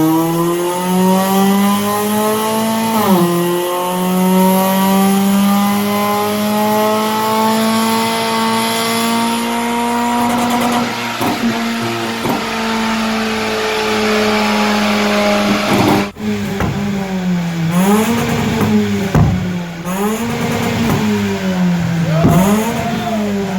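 A tuned, stanced Honda Accord CL7 engine revs hard and loud up close, its pitch climbing, dipping and surging again in repeated throttle blips with no talking over it.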